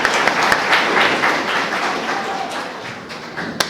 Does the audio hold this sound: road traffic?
no